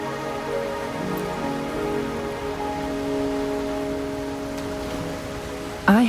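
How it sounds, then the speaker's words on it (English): Steady rain falls in the video game Wuthering Waves, a continuous hiss of drops running under sustained musical tones, with a sudden louder sound at the very end. "Are you trapped here by the rain?"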